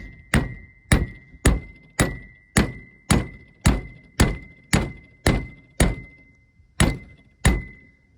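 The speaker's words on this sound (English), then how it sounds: "tap them in just like that, and go around them to the rest of them" Steel wheel studs being gently tapped into the rear axle hub of a 2002 Dodge Ram 3500: a close, steady series of sharp metallic knocks, about a dozen evenly spaced hits with a ringing tone, no talking.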